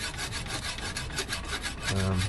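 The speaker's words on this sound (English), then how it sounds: "It's giving it a little bit of a clean, but it's also burnishing" A wooden tool is rubbed briskly to burnish and clean it, giving a steady scraping, rasping sound in quick repeated strokes, close and moderately loud, with a brief low hum near the end.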